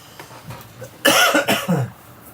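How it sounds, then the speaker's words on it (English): A few soft, muffled sounds lead into a burst of loud, rough coughs, three or four in quick succession, close and raspy. "I'm just going to cough, everybody."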